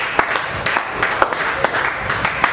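A church congregation claps for Jesus during a worship service: a continuous wash of applause with sharper clap bursts recurring every fraction of a second.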